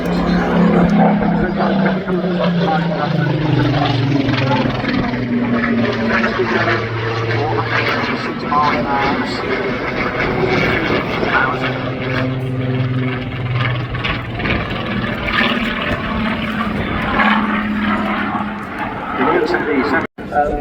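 A propeller aircraft flies past at the Southport Airshow, its steady, loud engine drone continuing throughout while a commentator talks over it on the public address.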